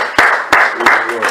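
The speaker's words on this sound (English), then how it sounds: "Let's clap for him," Short bursts of applause from a church audience, several sharp loud clapping sounds in a row, with a voice speaking over them.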